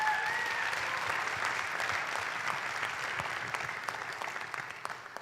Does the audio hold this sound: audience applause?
yes